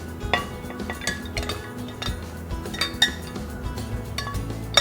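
Stewed pork ribs are tossed with seasoning and chopped garlic in a bowl, giving repeated close clinks and scrapes of utensil against dish in an irregular rhythm, moderately loud with no talking.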